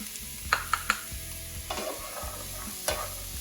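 Potatoes and green peas being stirred with fried onions in a pan, a few sharp scraping clicks of the utensil near the start and again near the end over a low, steady sizzle.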